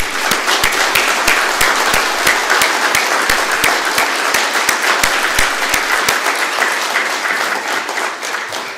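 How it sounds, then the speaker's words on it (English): Sustained applause fills an Erie Police Department swearing-in ceremony honoring new officers, a steady dense wash of many hands clapping, close and loud for the full duration with sharp individual claps standing out. "I'd like to give our newest officers a round of applause"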